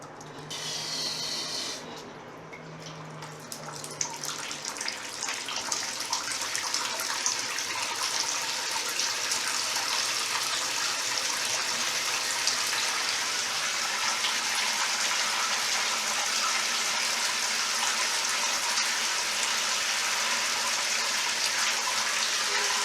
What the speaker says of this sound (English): I can tell you that I'm not impressed by the flow of this water.